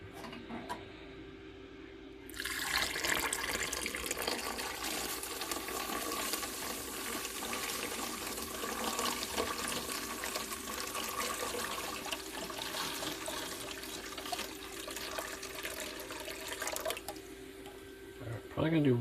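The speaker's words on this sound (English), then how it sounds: "slowly add the warm water." Warm water is slowly poured into a container holding aluminum foil and soda to clean heavily tarnished silver, a steady splashing trickle running for most of the stretch after a quiet start, fairly close.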